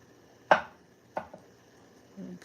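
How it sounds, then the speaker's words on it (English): A knife cuts into a hot cooked green plantain with one sharp, close cut followed by a lighter second cut and a small tap, then a soft rustle as the slices shift. "slice into this plantain"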